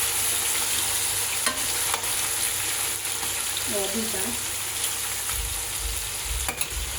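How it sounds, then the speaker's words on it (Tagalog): Oil sizzles steadily as food deep-fries, a constant close crackling hiss with occasional clinks, and a voice briefly speaks. "Deep fry."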